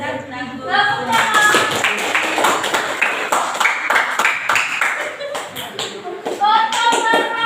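Students in a classroom break into a burst of hand clapping. The claps come fast and overlapping for several seconds, with children's voices and chatter mixed in and a few brighter taps at the edges.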